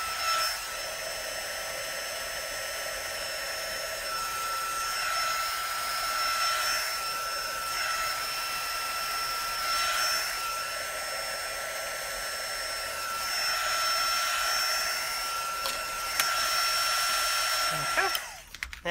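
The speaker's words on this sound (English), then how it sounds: "Heat shrink that sucker." A heat gun blows a continuous steady whooshing whine while shrinking heat shrink tubing on a homemade lineman's handset, the tone swelling slightly at times before cutting off near the end.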